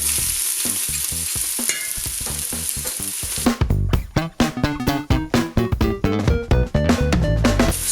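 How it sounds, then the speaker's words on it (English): Garlic cloves and a chopped onion frying in hot oil in a pan give a loud, continuous sizzle. After a few seconds a pulsing, rhythmic beat joins in. No one speaks. "We've got the oil heating up in the pan, and we're gonna stick the ingredients in"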